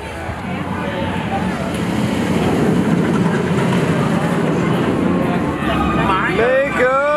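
A Mako roller coaster train running along its track at SeaWorld Orlando, heard as a steady, loud rumbling roar with clattering, heavy crowd and outdoor ambience throughout.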